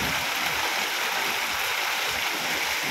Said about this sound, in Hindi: आप देख सकते हो कितनी तेज़ बारिश हो रही है